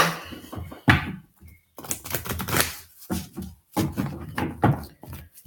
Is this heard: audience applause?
no